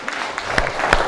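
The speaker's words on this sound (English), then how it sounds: "Can we all have another round of applause for everybody?" Audience applause for musicians at an evening concert, a brief steady patter of many hands at moderate volume with a couple of sharper accents.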